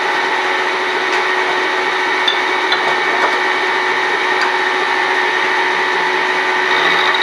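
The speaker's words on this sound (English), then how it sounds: "what we're going to be milling now is this last little slot" Milling machine cutting a slot in metal, a steady loud whirring hum with faint ticking, continuous and close, with no speech.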